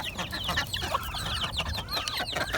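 Hungry chickens kept in a rooftop coop cluck and squawk excitedly, a dense, close chorus of overlapping calls running without pause.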